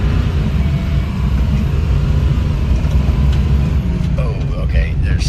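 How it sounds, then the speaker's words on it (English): 6.0 Powerstroke diesel truck spinning its tires on a snowy road, a loud steady roar of engine and wheelspin held continuously at close range, with a voice briefly audible near the end. "Oh, it's burning the tires off."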